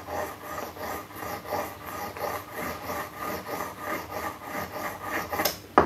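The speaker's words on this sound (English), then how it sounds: "this is what I do before they put the router cutter back away in my box. I give it a sharpen." A router cutter being sharpened by hand on a flat stone or plate, steady rhythmic rasping strokes back and forth at close range, ending in a sharper clack.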